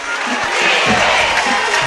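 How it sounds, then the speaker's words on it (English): A large crowd roars steadily at a high school football game between the Wayne County War Eagles and the Laurel Tornadoes, a dense continuous wash of cheering with no break across the stretch. "Big crowd here."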